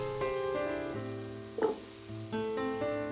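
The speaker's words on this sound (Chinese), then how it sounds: "加上鸡蛋丝和凉透的炒面， 翻拌均匀，盖上盖子半分钟" Noodles and egg strips stir-fried in a hot pan for vegetarian chow mein, with a soft sizzle and a brief scrape of stirring partway through.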